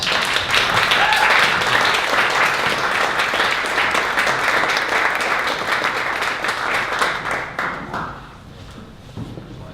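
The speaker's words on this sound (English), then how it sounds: "give him a round of applause" Audience rises for a standing ovation at a startup pitch gathering, loud dense clapping that holds for several seconds, then thins to scattered claps and dies away near the end.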